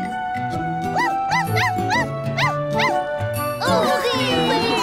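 A cartoon character's voice imitates a puppy in a children's animated series, giving a run of high, bouncy yips and barks in a quick rhythm, then a whimpering whine, over light background music.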